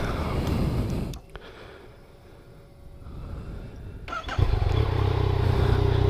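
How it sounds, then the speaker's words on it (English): A Yamaha MT-09 (FZ-09) motorcycle with stock exhaust idles while warming up. Its steady, close engine rumble sags quieter for a few seconds, then swells back louder and holds even. "I'm gonna let it warm up real quick while we talk about it."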